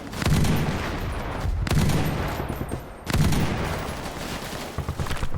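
M60 machine gun fire in a Thai-border war video game, loud close bursts of rapid shots with two brief pauses, heavy and continuous.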